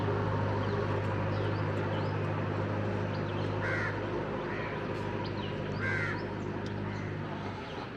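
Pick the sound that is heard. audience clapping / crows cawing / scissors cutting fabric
crows cawing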